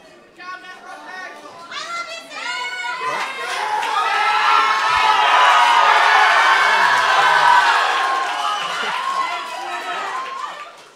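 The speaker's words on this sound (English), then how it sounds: "I appreciate all the applause." A crowd of young voices at a high school rock concert in Anacortes shouts and cheers loudly, swelling into a sustained roar before slowly fading.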